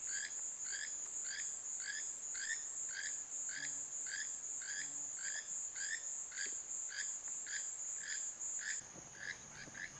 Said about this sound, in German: ein Engmaulfrosch